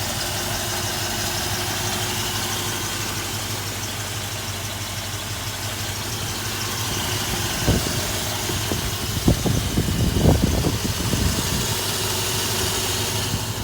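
A 1969 Ford Mustang Mach 1 engine runs steadily at idle with a low, continuous rumble, swelling briefly with a few louder knocks and revs near the end; no talking.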